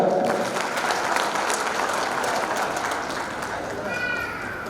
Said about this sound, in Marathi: एकदा सर्वांसाठी खूप जोरदार टाळ्या